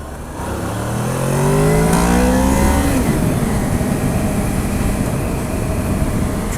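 A 2007 Honda VFR 800 motorcycle accelerates hard through several rising gears as its VTEC engages, the engine note climbing and then giving way to loud, steady wind roar at speed.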